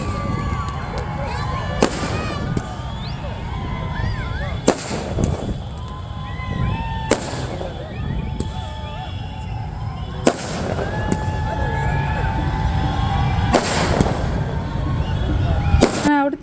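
Firecrackers burst in sharp, scattered bangs every few seconds at a New Year celebration near Kozhikode, Kerala, over a background of murmuring voices and chirping birds.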